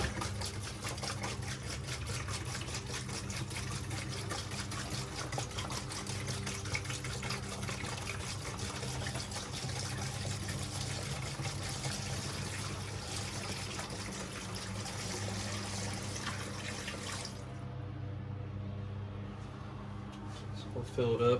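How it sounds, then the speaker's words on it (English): Mopar pink antifreeze coolant poured steadily into the cooling system of a Jeep Wrangler JK, a continuous close trickling and gurgling of liquid that runs for most of the stretch, then thins and stops near the end. "So we'll fill up our coolant here."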